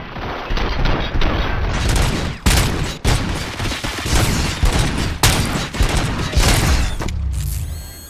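Rapid bursts of gunfire in the video game RoboCop Rogue City, loud overlapping shots and booms in dense volleys across the whole stretch, with brief pauses between salvos.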